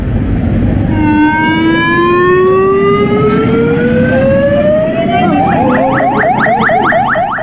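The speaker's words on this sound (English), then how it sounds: "Ambulances screech through Galle" A loud ambulance siren in Galle, Sri Lanka wails upward in a long rising sweep, then switches to a rapid warbling yelp over rumbling background noise.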